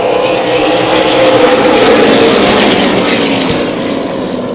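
Super late model race cars roar around The Bullring short track in Las Vegas, a loud sustained engine drone that swells slightly in the middle, with no talk over it.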